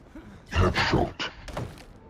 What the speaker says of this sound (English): Axe kill.